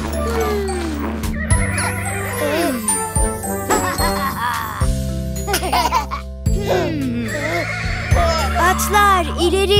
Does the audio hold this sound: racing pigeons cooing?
no